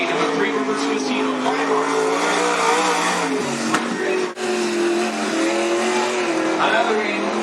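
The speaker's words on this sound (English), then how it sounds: "the number 11 car from Salem, the BC Motorsports sponsor, Maxim Chassis, Katie Alvin from Salem." Race car lapping Cottage Grove Speedway, the number 11 car from Salem on a Maxim chassis, its engine droning loud and steady with a brief dip mid-pass, under an announcer's continuous commentary.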